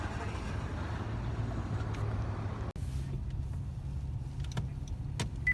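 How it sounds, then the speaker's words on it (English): A car being driven, heard from inside as a steady low road and engine rumble with a brief click midway and faint light sounds near the end. "Daddy driving now"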